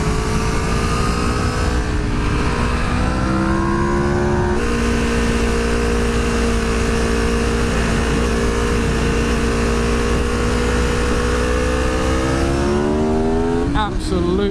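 A modified 2010 Aprilia RSV4 V4 motorcycle engine pulls hard through the gears, rising revs broken by quick shifts, loud and constant with heavy wind rush, as from the rider's seat.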